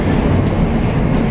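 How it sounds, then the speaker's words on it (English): A steady, loud rumble of a New York City 4 subway train running at Utica Avenue, with constant low mechanical roar and faint rattling throughout. "We are at the four train."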